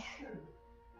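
A single short, faint sneeze-like burst, quiet and close, fading quickly into silence.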